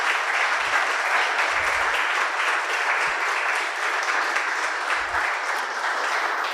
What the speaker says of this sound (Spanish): Por favor, les pedimos un aplauso.